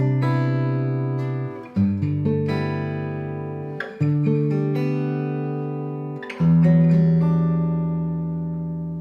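Open guitar chords ring out in a slow progression, each strum sustaining and decaying before the next change, about five chords in nine seconds, played alone with no voices.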